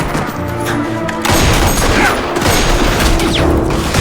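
Gunfire in a Fargo TV episode: a loud, dense burst of shots and booms that runs continuously without letup, with no clear speech over it.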